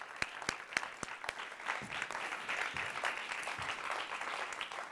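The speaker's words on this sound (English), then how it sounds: "Just give yourselves a big fat round of applause, and you at home." Audience applause at a London learning event, with a few sharp separate claps at the start swelling into steady, dense clapping from the whole room for the rest of the clip.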